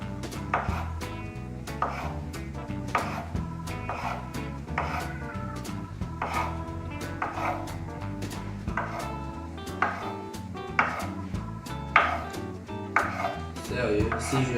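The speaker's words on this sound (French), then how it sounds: "On va commencer à découper les saucisses en rondelles." A knife slices sausages into rounds on a cutting board, a steady series of sharp cuts with some clattering, fairly close and clear.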